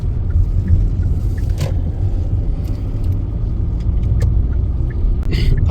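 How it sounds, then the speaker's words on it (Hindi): Car on a road during a Missouri road trip, a steady loud engine and road rumble throughout with faint clicks on top, no clear rise as it approaches. "वो आ रही है गाड़ी।"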